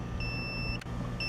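A steady high electronic beep from a Mercruiser MEFI engine diagnostic buzzer flashing trouble code 34 sounds, breaks off briefly, then resumes, thin and tonal over a low background hum.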